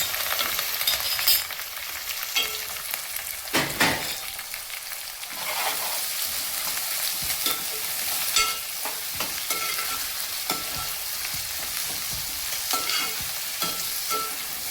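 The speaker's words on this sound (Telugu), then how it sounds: "చక్క ఉల్లిపాయలు పచ్చిమిరపకాయలు వేసేస్తున్నామండి" Chopped onions and green chillies fry in hot oil in a pan for a Telugu ridge gourd and chana dal curry, a steady crackling sizzle broken by repeated scraping stirs, loud and close with no talk.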